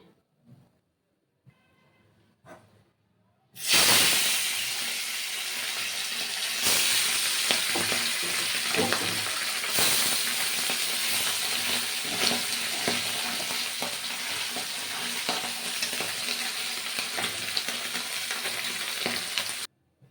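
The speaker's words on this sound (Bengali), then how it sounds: "এবারে বাকি মাছগুলো ভেজে নিতে হবে" Loud, steady sizzling of pabda fish frying in hot oil starts abruptly after a few quiet seconds and continues unbroken, with occasional clinks and scrapes.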